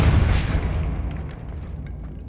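A deep, booming burst of force from the Depulso spell in Hogwarts Legacy hits loudly at the start, then rumbles and fades over about two seconds.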